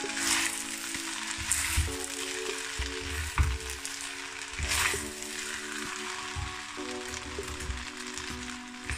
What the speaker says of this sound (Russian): И опять все хорошо перемешиваю.